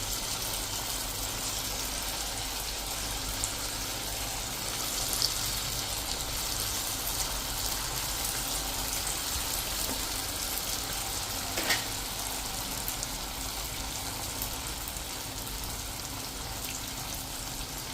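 Potato vada pieces frying in hot oil, a steady, even bubbling hiss that holds at a constant level throughout, with a couple of faint clicks as pieces are set into the oil.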